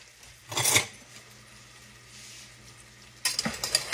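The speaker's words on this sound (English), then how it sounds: "We're just going to saute this about 5 minutes or so, just like this, just to kind of tender it up a little bit" Fresh asparagus stirred and sautéing in a pot, with a brief burst of sizzling and clinking near the start and another at the end, separated by a low, quiet stretch of gentle frying.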